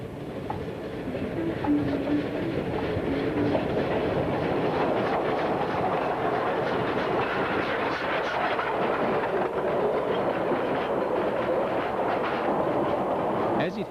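A 2'6" narrow gauge steam train in Argentina rumbles steadily along with continuous heavy mechanical roar and rhythmic rail clatter, loud and close throughout.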